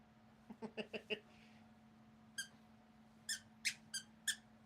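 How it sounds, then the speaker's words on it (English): A dog toy squeaker squeaks in a rapid run of five squeaks, then after a pause comes one lone squeak and a further series of sharper, spaced squeaks, close and fairly quiet over a low steady hum. "They got the squeaker on this one."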